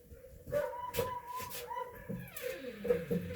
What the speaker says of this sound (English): The dog's outside.